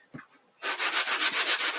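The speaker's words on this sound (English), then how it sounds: "I think I'm going to sand this really quick just to get some of that thick area off." Hand sanding a thick area on an altered clipboard, starting after a brief pause and going on as a loud rhythmic series of about nine scratchy back-and-forth strokes, close up.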